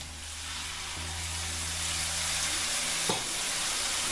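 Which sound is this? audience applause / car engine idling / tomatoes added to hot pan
tomatoes added to hot pan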